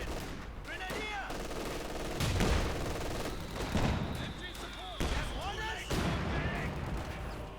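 Rifle grenades and gunfire in Company of Heroes 2, a 1v1 match: repeated sharp gunshot bursts and booming impacts under a steady busy battle bed, with whistling projectile sounds overhead.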